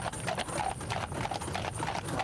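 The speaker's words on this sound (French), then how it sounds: "Encourage tes chevaux Manu." Horses trot steadily with a continuous clip-clop of hooves, fairly distant and outdoors, with no clear talk over it.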